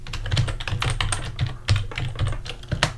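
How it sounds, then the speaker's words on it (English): Typing on a computer keyboard while building a grocery list app, a steady close run of quick plastic key clicks with a few louder taps, no voices. "type category here in front"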